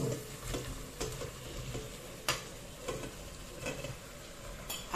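Meat goes into a pan for a Spanish-style beef stew and sizzles steadily close by, with scattered stirring clicks and utensil scrapes over the frying hiss and no talking.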